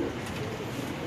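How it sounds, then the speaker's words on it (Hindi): Teddy pigeons coo softly at a breeder's loft in Lahore, a faint low burbling heard over a steady background hiss. "ये भी टैडी कबूतर है हमारे।"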